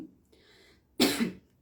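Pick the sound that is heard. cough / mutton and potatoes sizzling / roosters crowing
cough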